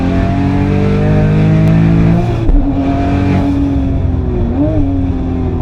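A 1000hp 9ff Porsche Turbo at full throttle on the Nürburgring, engine roaring loud and close in a steady high drone, a brief dip at a gear change, then climbing again.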